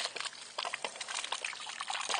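Very hot water pours and trickles from a PEX tubing coil on a DIY solar water heater, a steady close splashing stream with irregular spattering bursts throughout.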